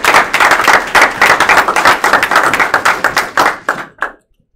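An audience at a career and technical education signing day claps loudly and close, dense rhythmic applause that thins and stops after about four seconds.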